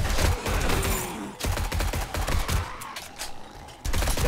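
Modded AR-15 fired in the zombie game 7 Days to Die: rapid bursts of loud, close gunshots in quick strings, broken by brief pauses.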